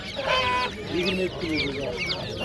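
Loud, close squawking and honking of fowl, likely ducks, at a poultry bazaar, repeated calls overlapping one another in busy market noise.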